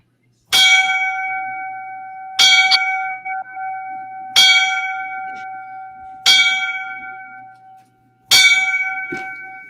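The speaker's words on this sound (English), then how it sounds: "So I'm going to give those guys the 5 bells. Line of duty death." Five bell strikes sounded for a firefighter's line of duty death, each a loud, clear metallic ring struck about two seconds apart and left to decay, alone without talk.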